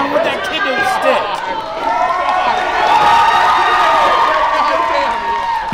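A crowd at an independent wrestling show roars and cheers during a kendo-stick brawl, a loud, sustained swell beneath an excited commentator talking over it.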